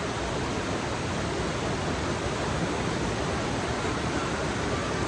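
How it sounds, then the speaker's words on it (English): A river waterfall rushes over a rock ledge in a dense, steady, loud roar that fills the whole clip with no pauses. "Swing around here, we'll get a shot of the waterfall."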